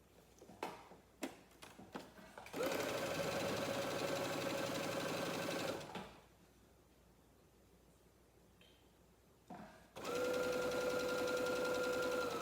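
A sewing machine stitches quilt layer-cake pieces in two steady whirring runs, separated by a quiet pause, with a few clicks and taps beforehand; close and clear, with no talking.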